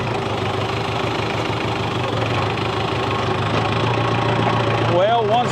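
A small pull-start engine with a flywheel runs steadily after firing, a close, even mechanical hum with a deep throb, and a brief voice near the end.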